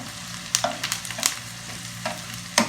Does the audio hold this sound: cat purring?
no